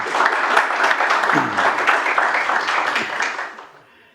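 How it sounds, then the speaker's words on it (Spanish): A studio audience applauds a guest, a bank executive, being welcomed onto a talk show: steady, fairly loud clapping from many hands that fades out near the end, with a brief voice mixed in. "Un aplauso, por favor"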